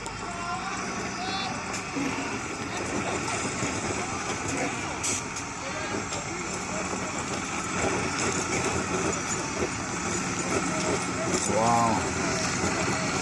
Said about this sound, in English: Engine 6 battling the storm.